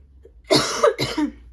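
A single harsh cough breaks out close by, followed quickly by a second shorter hack, with quiet room tone before and after.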